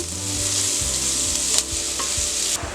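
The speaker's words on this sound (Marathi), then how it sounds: "कांदा चांगला परतून घ्यायचा आहे" Onion sautéing with a pinch of salt in a pan for a pumpkin vegetable dish, a loud continuous sizzle with rhythmic scraping strokes of a spatula stirring it.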